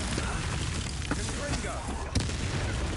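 An Expelliarmus spell cast in the Hogwarts Legacy video game: booming, crackling blasts amid dense game combat noise, with a few sharp bursts standing out and a voice shouting through the mix.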